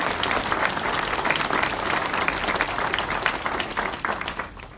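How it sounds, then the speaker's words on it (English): An audience at a healthcare sponsorship event gives a full round of applause, dense and steady clapping that holds throughout before tapering slightly at the end. "So join me in giving yourself a round of applause"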